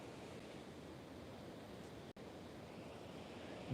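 Ocean surf washing onto an oceanfront shore makes a continuous, even rush of broadband noise with a soft wind-like quality, briefly cutting out for an instant midway before resuming.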